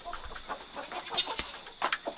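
Backyard adult hens cluck and chatter in a fenced-in feeding area, a scattering of short, soft bird calls and clucks at close range with no talking.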